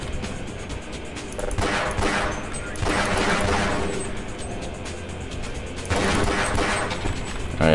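Bursts of gunfire in the shooter Half-Life 2: Episode Two, loud and dense, with heavy volleys in two clusters over a constant game backdrop, no talking.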